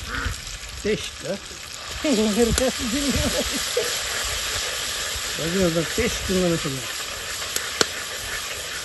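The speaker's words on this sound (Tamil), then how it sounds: "எண்ணெய் சூடாக தான் இருக்குது இப்போ இஞ்சி பூண்டு பேஸ்ட்டு அரைச்சி வச்சுருக்குறாங்க இது போட்டால் நல்லா வாசனையாக இருக்கும்" Ginger garlic paste sizzles in hot oil with a steady bright hiss running throughout, while a voice talks over it in bursts.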